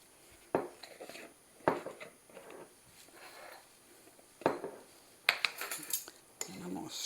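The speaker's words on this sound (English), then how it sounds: "Stir it up a little bit." Spoon clinking and scraping against a pot or bowl while stirring a homemade mix with just-canned tomatoes, several sharp metallic knocks spaced between softer scraping strokes, close and fairly quiet.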